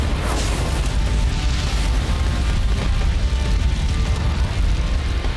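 A cartoon T-Rex spits a fiery burst at lava on the ground, heard as a loud, sustained roaring whoosh of flame with rumbling booms that stays intense throughout.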